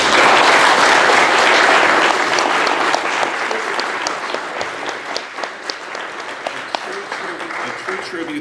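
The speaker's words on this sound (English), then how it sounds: "We should give them a round of applause for that." Convention Q&A audience claps loudly at first, then the applause thins out into scattered individual claps as it fades toward the end.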